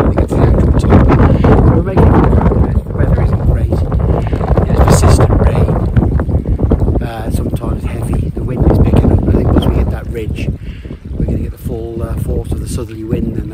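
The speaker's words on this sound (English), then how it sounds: "Southerly wind, and that's coming up from the south, bringing all the weather with it." Strong southerly wind buffets the microphone high on Cadair Idris in wet, stormy mountain conditions, a loud continuous roar with gusting surges throughout, while a person talks over it.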